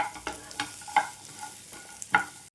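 Raw tamarind frying in a pan for pickle, stirred with a spoon: soft steady sizzle under a few distinct scraping strokes against the pan, close and fairly quiet, with no talking.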